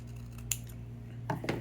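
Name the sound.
scissors cutting paper for card making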